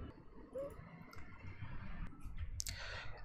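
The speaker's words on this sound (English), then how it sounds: "Let's click on import data" Computer mouse clicks at a desk during a software tutorial, a few quiet isolated clicks spaced apart over a low background hiss.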